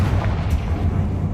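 Bombarda and Confringo spells going off in Hogwarts Legacy, a dense, heavy rumbling blast with booming low end that fills the whole short moment, loud and close.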